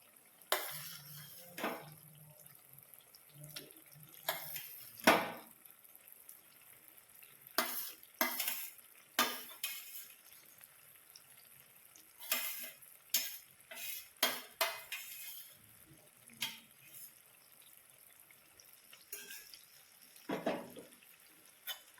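Roselle (ambadi) leaves tossed and stirred in a hot pan, with scraping spatula strokes and clinks of utensils over a soft sizzle, no voices.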